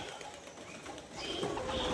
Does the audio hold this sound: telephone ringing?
no